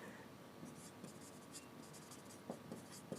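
Pen writing by hand on paper, a soft steady scratching with short strokes and taps, close and quiet, a few louder marks near the end, with faint room noise and a low murmur beneath.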